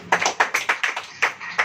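An audience at a Hindi Christian sermon claps along in a steady rhythm, eight or so crisp, evenly spaced claps ringing out close and clear with no talking over them.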